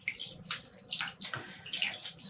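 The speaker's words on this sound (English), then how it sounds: "I'm just grabbing the zip tie and I'm squeezing out some water." Dyed yarn being wrung out by hand, with water splashing and trickling into a rinsing bowl in several close, irregular bursts.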